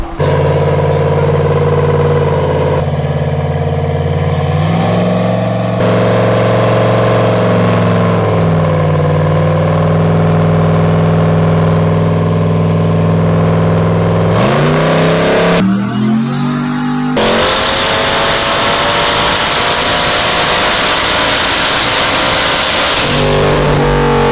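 A powerful turbocharged LS V8 in a Ford Mustang revs hard on a dyno and holds at high pitch, climbing in stages toward 7,000 rpm, then roars even louder before dropping off near the end.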